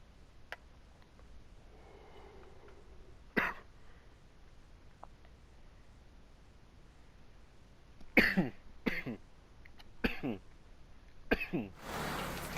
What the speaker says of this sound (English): I could probably cut out the coughing.